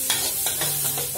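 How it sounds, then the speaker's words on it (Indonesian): Minced garlic, two cloves, frying in two tablespoons of melted margarine in a pan, a steady close sizzle with several soft scraping stirs of a spatula across about a second. "Terus kita masukkan bawang putihnya ya."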